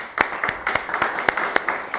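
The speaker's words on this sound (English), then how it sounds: "A big round of applause for all the teams." Audience applause for the startup teams at a tech demo day event in Prishtina: a steady crowd of hands clapping with scattered sharper individual claps standing out, moderately loud and continuous over a short stretch.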